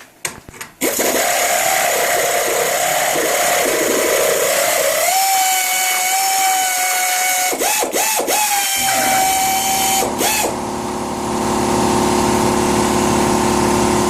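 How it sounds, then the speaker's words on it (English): Pneumatic 1/2-inch drive air ratchet removing bolts on a car, a loud close whirring buzz running almost continuously with brief pitch changes and short interruptions as the bolt spins out. "It's a 1/2-inch drive air ratchet"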